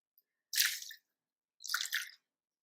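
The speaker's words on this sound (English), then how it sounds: "We'll let the water back in." Water is poured back into a pot of Cattleya purpurata orchid during repotting, giving two short, soft wet splashing bursts about a second apart, close and fairly quiet.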